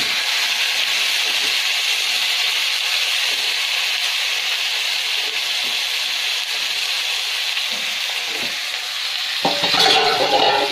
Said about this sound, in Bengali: এটা বিসমিল্লাহ পেঁয়াজ রসুন একেবারে তেলে দিয়ে দিই